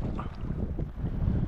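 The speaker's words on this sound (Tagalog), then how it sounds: "Medyo mahangin na kasi." Wind gusts over open sea on a boat during an ultralight fishing trip off San Vicente, Palawan, rumbling in short buffeting bursts against the microphone, fairly loud and rough with no talk.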